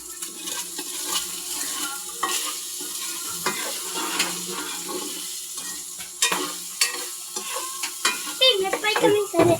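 Meat and string beans frying in a pan as soy sauce goes in for adobong sitaw, a steady sizzle with stirring scrapes and clinks, the hiss flaring louder near the end.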